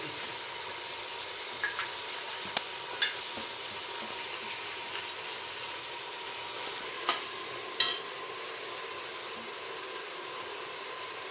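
Ginger-garlic paste stirred with onions in a pan, a low steady sizzle with occasional sharp clinks and scrapes of a spoon against the metal.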